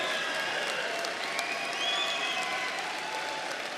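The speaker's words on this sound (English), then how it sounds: "would the aunts, uncles, friends, and all others who've helped make this day possible and who are here to share in this, please stand up and cheer." Families at the Temple University Winter Commencement 2014 stand and applaud, a dense, steady wash of clapping from a large crowd with a few whistles and cheers rising through it.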